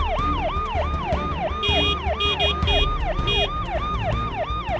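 An ambulance siren wails in a continuous rising-and-falling cycle, loud and close, with a rumbling engine and traffic beneath it and a few brief sharper tones layered over it.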